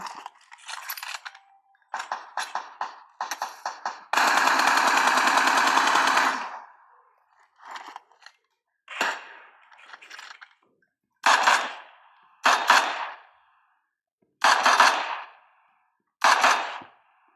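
M4 rifle fire in a video game comes in short clipped bursts, with one sustained longer volley, separated by silent gaps, loud and dry.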